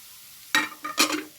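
A prawn and amaranth stem stir-fry gets two or three quick stirs in a pan, short scraping swishes over an otherwise quiet background.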